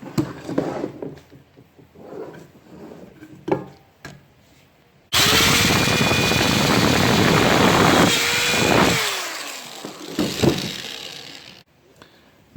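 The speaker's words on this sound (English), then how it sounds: "So I'm just going to drill a pilot hole." A power drill bores a pilot hole through a thin metal can for a hobo rocket stove, giving a loud, steady grinding whir for about four seconds, with someone talking quietly before and after.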